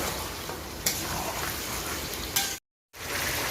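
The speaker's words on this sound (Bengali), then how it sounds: "মাংস আবারও খুব ভালো করে কষিয়ে নেব" Broiler chicken meat stir-fried with chui stem, green chilli, dried chilli paste and ground cumin-coriander: a steady close sizzle with stirring scrapes and a couple of sharp clinks, cut by a brief silent gap.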